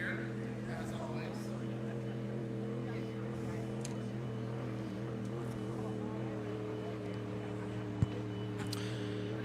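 The E5 Flyboy racing powerboat runs on the Indiana Governor's Cup race course, a faint, steady distant engine drone with light background noise and a short click near the end.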